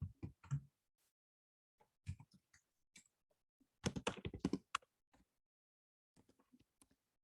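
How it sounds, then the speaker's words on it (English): A slightly broken computer keyboard is typed on in sparse clusters of crisp clicks, with short bursts separated by quiet pauses, close and fairly quiet. "a keyboard. It's actually kind of broken."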